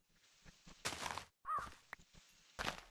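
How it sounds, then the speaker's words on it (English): A raven caws a few times in a Minecraft world from the Derpy Craft FTB modpack, short harsh calls breaking out between rustling movement and footsteps. "Hear that raven laughing at me for having to climb up the side here"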